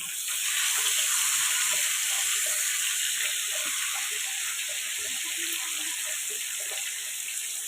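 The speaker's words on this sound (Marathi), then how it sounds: "आता हे पापलेट फ्राय झालेले आहेत" Pomfret fish frying in oil in a pan, a steady bright sizzle and hiss throughout with faint pops, close and continuous, no talk.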